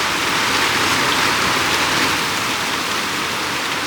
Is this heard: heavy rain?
yes